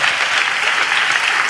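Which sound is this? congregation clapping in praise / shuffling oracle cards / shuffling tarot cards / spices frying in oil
congregation clapping in praise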